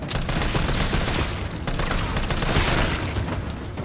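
Dense rapid gunfire in Resident Evil 4 roars continuously, loud and close, with overlapping shots and booms forming a sustained barrage.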